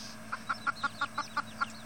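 Young chicks, newly brought home and a little frightened, cluck in a quick, even series of about eight soft peeping calls, close by and alone.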